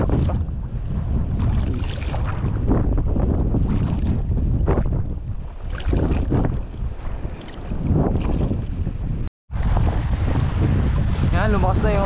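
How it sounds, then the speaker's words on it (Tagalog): Strong sea wind buffets a fishing boat out on open water during a snapper catch, a loud, continuous roar of gusting wind noise and rushing water that briefly cuts out near the end before returning just as harsh. "Yan, lumakas na yung hangin."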